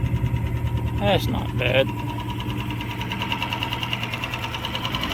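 A Mercury 2.5 hp outboard motor idles on the water with a steady, close, puttering drone and a rhythmic knock, while a person briefly speaks over it.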